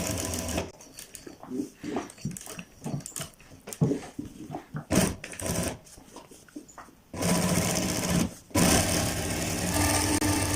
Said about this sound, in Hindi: अब हम इसकी बिल्कुल एंड पे सिलाई लगाते हैं, जड़ पे, ताकि हमारा कलर अपनी जगह पर प्रॉपर बैठा रहे